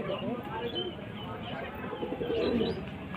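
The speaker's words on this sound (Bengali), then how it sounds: "এটা মাদা পায়রা।" Pigeons coo softly at a Saturday and Tuesday bird market in Madhyamgram, with low throaty calls blending into busy crowd murmur.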